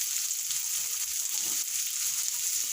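Chopped onion frying in a hot pan with crushed garlic, a steady bright sizzle filling the background without a break, close and even, with no talk over it.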